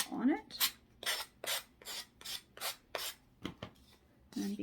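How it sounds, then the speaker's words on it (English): A sanding block rubs back and forth over a wooden cross being prepared for decoupage, giving about ten steady rasping strokes in a regular rhythm, close and fairly loud with no talk. "I can't really seem to get into the corner with the sanding block"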